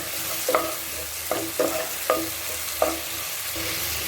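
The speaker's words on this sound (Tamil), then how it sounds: "இப்போ கேரட் போட்டுக்குவோம்." Carrots tipped into an onion and tomato mixture frying in a pan for Kumbakonam kadappa, with a steady sizzle under several distinct stirring scrapes spaced about a second apart, close and without speech.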